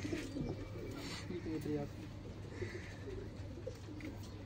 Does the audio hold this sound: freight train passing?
no